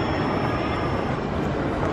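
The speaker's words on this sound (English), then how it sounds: "made it to the train station and it's so beautiful" Steady low rumble and hiss of a train at a Copenhagen railway station, continuous and moderately loud with no distinct events, heard alone without talk.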